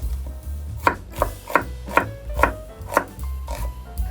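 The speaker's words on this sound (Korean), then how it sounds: "양파를 좀 넉넉히 준비하셔가지고 채를 썰어서 준비해 주시도록 하세요" A knife slicing onion into strips on a cutting board, with steady, evenly spaced chopping knocks, about eight close, crisp strokes and no talking.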